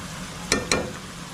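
Continuous oily sizzle of ragout ingredients frying with spices in a pan, broken by two quick scraping stirs of a spatula.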